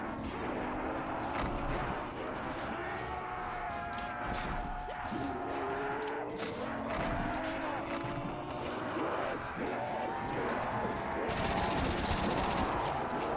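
Rapid automatic gunfire from a Thompson submachine gun in Call of Duty Zombies, sustained bursts layered over game music and effects for the whole stretch, loud and close.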